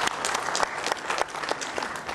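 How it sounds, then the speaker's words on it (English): An audience at a workshop on implementing the Rome Statute in West Africa claps for the panelists, a brief burst of dense, steady hand-clapping from a roomful of people. "another round of applause for our panelists"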